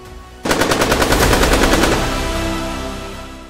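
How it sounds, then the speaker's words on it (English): Bursts of automatic rifle gunfire rattle out in a rapid, sustained string after a brief lull, loud and close, then trail off into a lingering echo amid banditry violence in rural Zamfara. "the hoes and cutlasses tilling the soil have been replaced by the ricochet of automatic rifles"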